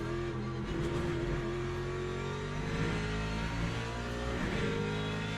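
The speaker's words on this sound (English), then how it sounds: "LMP2 coming out of the pits" An LMP2 prototype race car in the Le Mans Ultimate racing game, running at Le Mans, sounds as a continuous, dense engine note with a slightly rising and falling rev, steady and unbroken throughout.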